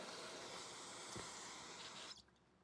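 Aerosol carb cleaner is sprayed onto Kawasaki Z1B motorcycle carburetors in one continuous, close, faint hiss lasting about two seconds before cutting off abruptly.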